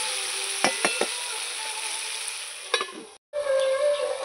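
Potato, pumpkin and tomato frying in a pan, a steady close sizzle with a few scraping stir clicks near the start and end, then a short break before the sizzle resumes.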